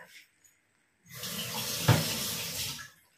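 Milk poured into a vegetarian pasta sauce, a steady liquid pour that starts after a quiet moment and runs for about two seconds, close and moderately loud, with a brief splashy peak midway.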